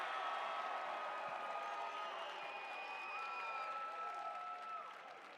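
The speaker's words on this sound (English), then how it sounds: "What else is fun is cheering for our winners, Farmington High State Champs." An esports celebration crowd applauds and cheers for the Farmington High state champions, a dense wash of clapping and whoops that holds steady throughout, with scattered voices mixed in.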